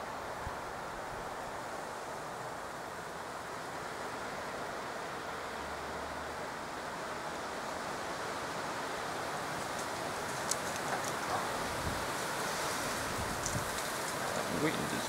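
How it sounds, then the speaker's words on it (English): Strong wind gusting across an open outdoor spot at Blackheath during snow flurries on a winter evening, a steady broadband roar with buffeting on the microphone throughout, and a person speaks briefly over it. "That wind is really just pretty strong."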